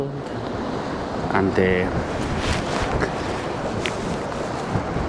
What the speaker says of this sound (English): See the waves. The wind is so strong, very strong.